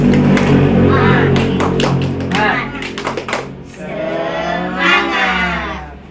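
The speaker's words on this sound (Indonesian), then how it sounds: "Tepuk semangat. Sekali lagi. Tepuk semangat." A classroom of students performs a rhythmic group clap, quick bursts of sharp claps in a set pattern followed by a cheer, loud and close with voices joining in.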